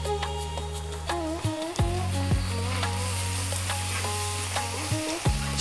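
Ground chili, coriander, cumin and turmeric sizzling in hot oil over above-medium heat for an Indian fish curry, a continuous close frying hiss with a few sharper crackles and some tonal sounds running through it.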